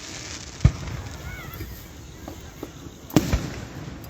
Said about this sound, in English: right now you're enjoying the 4th of July fireworks here in Casey